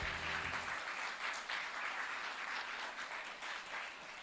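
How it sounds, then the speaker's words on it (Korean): Audience applause for a presenter at a public diplomacy forum, sustained steady clapping from a crowd filling the hall, fairly soft and distant, with no talk over it. "다시 한번 큰 박수 부탁드립니다."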